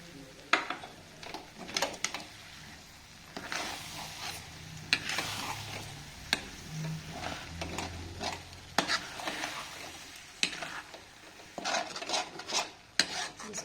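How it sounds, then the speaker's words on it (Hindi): A spoon stirs tomato paste from four large tomatoes into frying, softened peas in a pan for a homemade matar paneer curry, giving repeated scraping strokes over a low sizzle, close and fairly quiet, with no talking. "अब इसमें डालेंगे टमाटर पेस्ट।"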